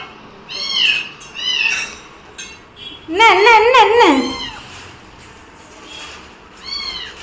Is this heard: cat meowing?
yes